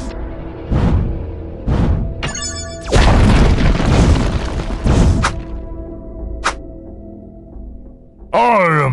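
A turret being destroyed in the Sprite Legend video game, with several loud booming impacts followed by a long crashing explosion and scattered game effects, close and dominant.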